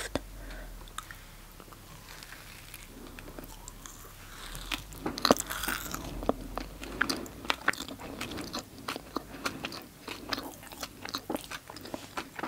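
Crunchy Irish sweets and snacks are bitten and chewed close up, with repeated sharp crunches and crackly chewing that build in density, plus soft whispery mouth sounds throughout.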